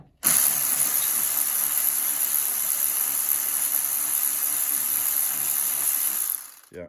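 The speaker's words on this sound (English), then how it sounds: "with your Chinese electric ratchet" Chinese electric ratchet undoing a pinch bolt on a Yamaha Virago 535 motorcycle, a steady high-pitched motor whine running close and loud for about six seconds before cutting off.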